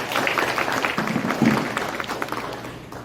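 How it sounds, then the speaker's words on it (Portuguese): Audience applause at a Portuguese-language class session, a short burst of clapping from a small group that swells quickly and then tapers off over a few seconds, with faint voices mixed in. "Vamos aplaudir Jesus pela vida dele."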